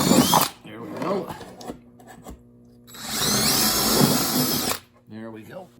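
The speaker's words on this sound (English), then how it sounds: "I'm going to drill a hole straight down through there, and I'm backing up the other side so that I don't get a lot of tear out" A power drill boring a hole straight through a hollow core door, backed on the far side, running in two long close bursts with grinding bite into the wood, while someone talks between them.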